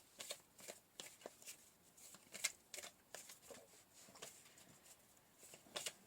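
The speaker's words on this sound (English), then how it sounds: "we'll keep chucking cards around" Tarot cards are shuffled in quick, soft riffling bursts that repeat at an irregular rhythm, close and quiet with no talking.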